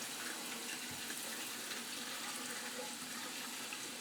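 Water rushes steadily from a hose as a home heating zone is purged of trapped air, a continuous broadband hiss at moderate level with no breaks.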